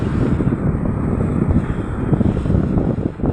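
Strong sea wind gusts steadily across the microphone at Dolomite Beach on Manila Bay, a loud, rough rumble with the wash of open water underneath.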